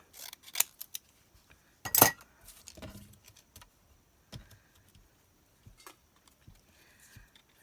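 Scissors cut down material for a Halloween craft project, a series of sharp, close snips and rustles spaced irregularly, with one louder crunchy cut and quiet pauses between.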